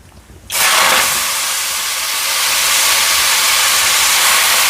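A sudden loud sizzle erupts as vegetables hit hot mustard oil, then a steady intense hiss continues close by.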